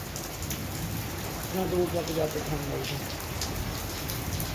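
Steady heavy rain pours down at night in a dense, continuous hiss, with a faint voice murmuring briefly partway through.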